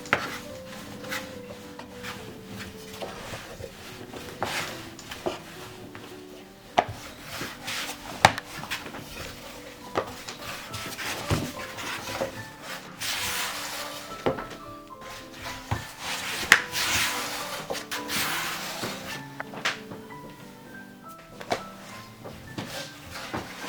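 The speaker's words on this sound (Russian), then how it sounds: "Подпыляем рабочую поверхность мукой и как можно тоньше раскатываем." Thin dough for layered katlama is rolled out on a floured work surface, giving soft repeated rubbing and knocking of a rolling pin with occasional light clatter, close and moderately quiet.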